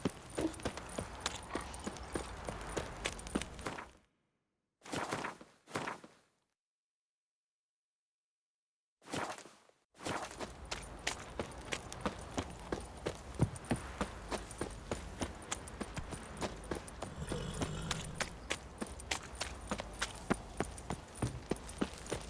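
Horses walk at a steady pace in the video game The Witcher, hooves clip-clopping in an even rhythm. The steps break off into brief silent gaps, then resume and continue at a consistent, moderately close level.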